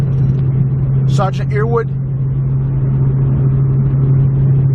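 A car hums with a steady, loud engine rumble and road drone as it drives toward the dunes, while a voice briefly speaks over it.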